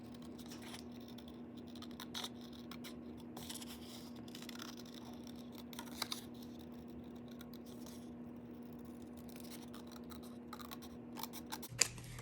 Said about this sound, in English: I'm just gonna grab my scissors and cut right up to that emboss line